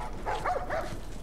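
A dog in The Last of Us video game gives a couple of short, soft barks or yips, fairly faint against a steady low background hum, with no talk over it.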